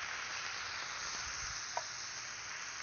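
Diced potatoes and breakfast ingredients sizzle and fry on a Disc-it outdoor grill, a steady hiss with no voices, one small clink partway through.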